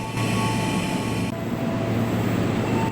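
An Indonesian train rolls past at a station, a steady broadband rumble with rail squeal tones holding for three seconds, loud and continuous with no voices.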